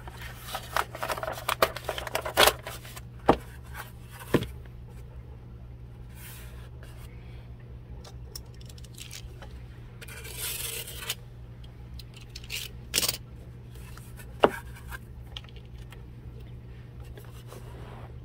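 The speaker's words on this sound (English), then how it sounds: "Pull my tape up to hold it in place." Tape is pulled from a roll and pressed onto a 1:12 scale schoolhouse dollhouse kit, heard as a few short, quiet tearing and rasping bursts close by against a low, steady background hum.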